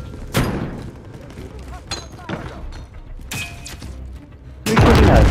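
Gunfire in the Warzone battle royale game, bursts of shots and booming impacts scattered through the clip, ending in a loud sustained blast, with players talking over it.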